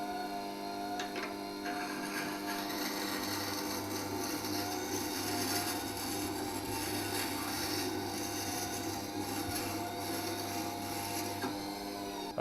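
Wing of a woodcarving V tool held against a grinder, a continuous faint rasping hum with a steady motor drone underneath and no talk.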